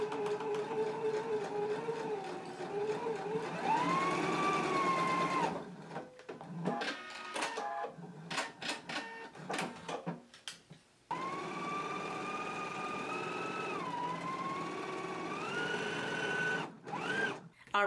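A sewing machine runs in long steady stitching passes along a 3/8-inch collar seam, with a stretch of stop-start clicks and handling in the middle, close and clear.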